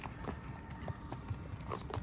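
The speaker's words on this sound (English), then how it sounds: "I took the time to really set her in her flat foot walk." Hooves of a gaited young mare in a flat foot walk, a soft, even four-beat patter of steps at moderate distance over background noise.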